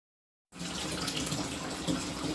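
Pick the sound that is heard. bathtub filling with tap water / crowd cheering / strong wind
bathtub filling with tap water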